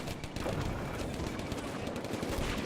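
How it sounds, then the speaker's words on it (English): German mortar and artillery fire in the video game Combat Mission: Afrika Korps makes a dense, continuous rumble of overlapping explosions and gunfire, loud and unbroken throughout, with no talk. "And the German mortars are falling, and I think our artillery is falling on their position as well."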